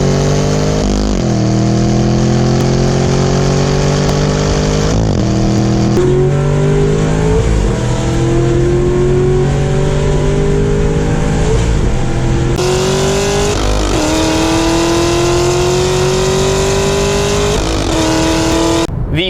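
A car accelerating hard with no-lift flat-foot shifts: a loud, close engine climbs steadily in pitch, cuts briefly at each shift, then surges again through several gears.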